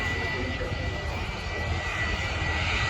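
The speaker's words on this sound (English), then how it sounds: "Here we go, a 35-year-old 757." A 35-year-old Jet2 Boeing 757 airliner at Manchester Airport sounds as a steady, loud engine roar with a high whine, unbroken throughout.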